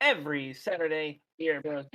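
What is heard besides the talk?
No everyday noises stand out.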